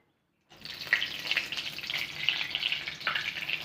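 Oil for a Bengali fish and potato curry heats in a pan with a steady, soft sizzling hiss that begins abruptly and continues with faint crackles.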